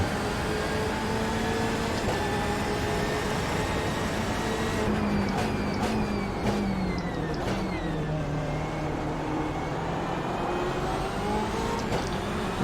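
A BMW M8 GTE race car engine in iRacing at Barcelona hums steadily, with pitch sweeps as gears change and occasional clicks over a loud, continuous drone.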